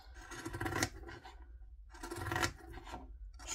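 Zigzag scissors cut through fabric while a bag is sewn, giving two close, crisp rasping snips, a pause, then a further cut starting at the very end.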